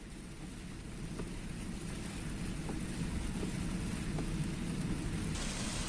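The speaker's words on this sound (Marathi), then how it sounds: "पूर्व उपनगरांमध्ये देखील पावसाचा जोर कायम आहे" Heavy monsoon rain pours over Mumbai's eastern suburbs near the Eastern Freeway, a steady dense roar of falling water with road traffic blended in, unbroken and loud throughout, no voices.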